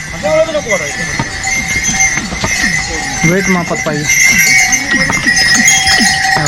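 Horses move along the Kedarnath mountain trek trail in Uttarakhand with jingling bells and occasional whinnies, while people talk nearby throughout.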